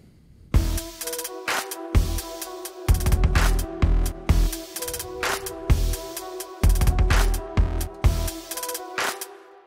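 A halftime drum groove at 120 BPM built from a booming 808 kick, ticking hi-hats and a sharp clap, repeating in a steady loop over a sustained musical backing, loud and up close.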